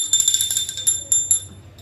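A small brass puja hand bell topped with a Hanuman figure rings in quick, uneven strokes, giving bright, close metallic chimes with short sustain over faint background noise.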